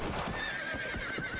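Horses in the Red Dead Redemption video game neighing, a drawn-out high whinny over snorting and hoof clatter, close and loud for a moment.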